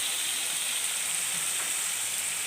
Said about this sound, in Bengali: মশলাটাকে অল্প সময় আমি ফ্রাই করব।